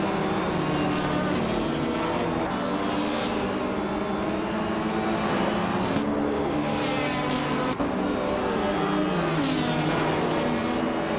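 Race cars in a video game roar past in a steady, loud engine drone with rising and falling whines as they jostle for position, a continuous dense mechanical wash with no pauses, a voice talking lightly underneath.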